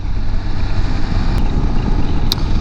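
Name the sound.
BMW F 800 GS 2025 motorcycle riding at highway speed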